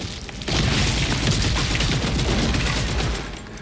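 Gunfire in Gears of War: E-Day, a dense, loud continuous burst of rapid shots and booms lasting about three seconds before easing off.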